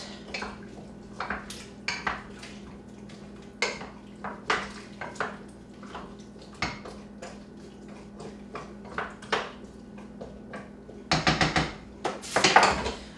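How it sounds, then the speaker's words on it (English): A spoon clinks and scrapes against a metal pot while carrots are stirred into a stew, producing a steady run of sharp, close metallic taps and knocks with a brief clatter near the end. "We're going to add the carrots to the stew. Stir those in a bit."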